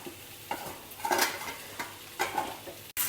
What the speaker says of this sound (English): Now mix everything well together.